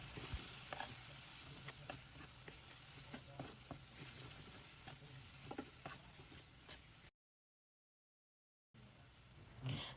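Paprika powder stir-fried in oil crackles and sizzles steadily with light scraping stirs, close and quiet, before cutting to a short silence and a brief return of sizzling.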